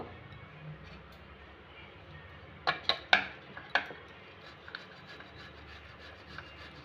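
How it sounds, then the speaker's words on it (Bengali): Two boiled potatoes being grated by hand, giving a brief cluster of soft, close scraping rubs in a quiet room, followed by a few fainter scrapes. "আলুটাকে আমি এখন গ্রেট করে নেবো"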